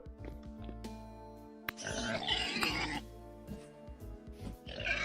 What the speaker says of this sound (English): Is that a wolf? A cat? What is that? A goat? Sounds like one. Yeah, that's definitely a goat.